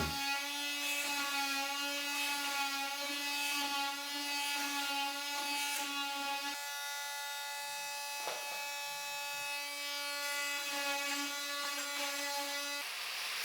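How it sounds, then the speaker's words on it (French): An oscillating multitool cuts material for a made-to-measure stair handrail, holding a steady, strongly tonal buzz throughout with a brief drop in pitch partway through, close by and without talk. "Je découpe avec le multitool."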